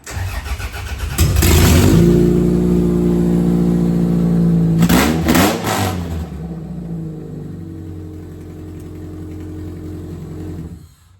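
A manual youth compact demolition derby car, built for the 2025 season, runs loud and close with a rough rumbling idle and two bursts of revving, then sputters and stalls into silence at the end.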